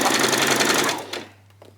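A sewing machine runs steadily at a fast, even pace while putting in gathering stitches on pretty fabric for a peasant skirt, loud and close. It stops abruptly and a few faint clicks follow.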